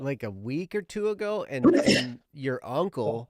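A single sharp sneeze bursts out in the middle of conversation during a livestream, with people talking before and after it.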